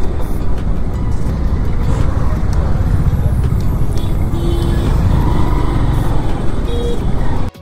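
Heavy road traffic around a rider on a Glamour 125cc motorcycle near Silchar, a dense, loud, continuous rumble of car and truck engines with scattered horn-like tones, and a voice talking over it at times.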